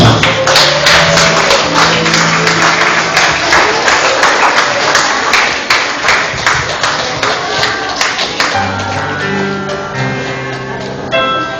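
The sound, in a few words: wedding guests applauding the bride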